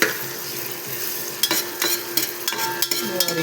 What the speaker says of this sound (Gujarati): પહેલાં તો ડુંગળીને આપણે આ રીતે ગ્રેવી બનાવી લઈશું. થોડું તેલ અને ડુંગળી